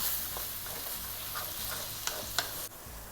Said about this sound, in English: As our ground beef begins to cook down